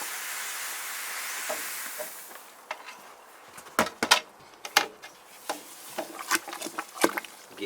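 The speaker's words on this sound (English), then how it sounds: "Okay, let's add some grains. Let's add all of the grains." Grains and rice hulls pour into a rice beer brewing pot, first as a soft hissing rush, then as scattered rustling taps and scrapes while the grain settles.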